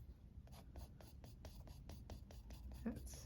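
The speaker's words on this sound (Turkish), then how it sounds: "Küpümü çiziyorum." Pencil drawing the lines of a cube on paper, a close, quiet series of about a dozen evenly spaced scratchy strokes in a steady rhythm, with faint breathy voice underneath.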